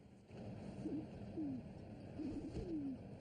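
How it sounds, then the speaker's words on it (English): Pigeons coo softly in low, repeated phrases, several gentle calls spread over a steady background hum, faint and somewhat distant. "Oh, pigeons. They came."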